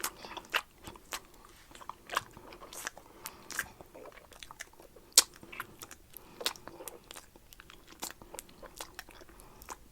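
Someone chews a pink object close to the mic, producing a steady series of crisp bites and crunches spaced irregularly over a quiet background.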